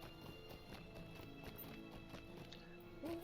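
Horse hooves on a slow mount ride to Rivendell in The Lord of the Rings Online, a quiet, steady clip-clop under ambient music with a brief whinny near the end.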